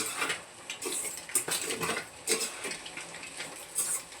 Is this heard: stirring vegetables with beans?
yes